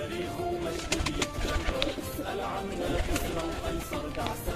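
Pigeons coo softly inside a loft in Makli, Sindh, Pakistan, with a continuous low murmur of calls and occasional wing flutters and chirps, while people talk faintly in the background.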